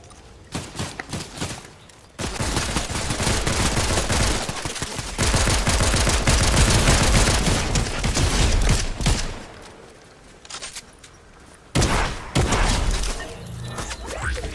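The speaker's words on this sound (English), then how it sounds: "Somebody's shooting." Heavy gunfire in the video game Fortnite, dense bursts and rapid volleys that carry on loud for most of the stretch with brief lulls, close and intense.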